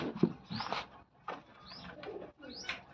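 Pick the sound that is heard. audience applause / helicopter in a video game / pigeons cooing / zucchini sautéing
pigeons cooing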